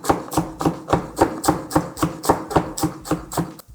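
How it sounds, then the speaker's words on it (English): A knife finely chops culantro (shadow benny) on a board for a Trini curry, striking in a steady, rapid rhythm of about fourteen close, crisp thuds with no talking. "I'm gonna give this a fine chop here."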